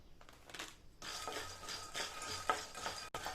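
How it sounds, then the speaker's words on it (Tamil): Raw peanuts roast in a pan while being stirred, giving scraping and rattling strokes with light sizzling, irregular and close by, with brief pauses between movements. "காஃபி போடுறதுக்கு முன்னாடி ஸ்நாக்குக்காக இந்த வேர்க்கடலையை வறுத்துக்கிறேன்"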